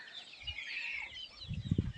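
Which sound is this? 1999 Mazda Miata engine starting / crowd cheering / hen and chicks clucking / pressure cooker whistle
hen and chicks clucking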